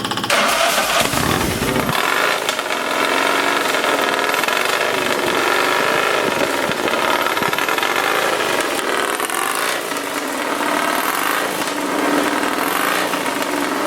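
An early Vincent engine started by hand directly on the crank, in the Altometheus machine at Pendine, coughs into life, then settles into a loud, steady, buzzing idle that runs on without a break.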